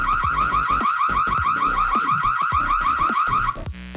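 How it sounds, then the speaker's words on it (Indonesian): Siren alarm from a G-Lens wireless CCTV camera being tested, a loud, rapidly warbling electronic siren repeating in fast cycles for several seconds, then cutting off abruptly near the end. "Kita cobain alarmnya."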